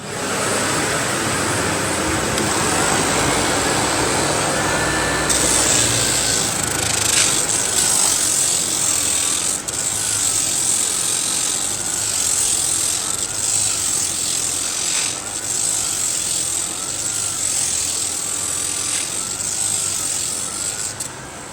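A floor polishing machine sanding laminate parquet runs loudly and continuously with a steady whirring drone and a faint rising whine, close by, with no voices.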